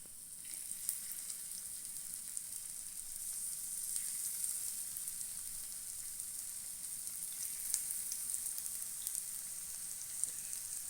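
Sliced okra (ladies finger) coated in masala fries in hot oil with a steady, even sizzle, faint and continuous with small crackling pops and no talk.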